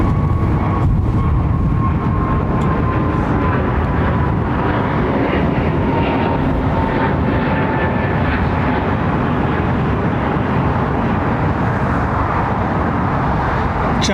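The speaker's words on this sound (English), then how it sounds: "Airlines and their beautifully turned out A350." Airbus A350 airliner at London Heathrow Airport, a loud sustained jet engine roar with a slowly shifting whine, heard from nearby and steady throughout, no speech.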